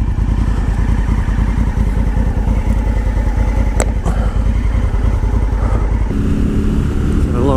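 Honda Africa Twin motorcycle engine running, a loud, close, steady rumbling throb with a rhythmic pulse throughout and a brief clatter partway through.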